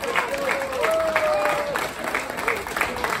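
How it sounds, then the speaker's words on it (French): Applause from an outdoor crowd at a spring sardine festival in a Vendée fishing port, steady clapping mixed with murmuring voices and a few whistles or calls. "vous pouvez l'applaudir très fort"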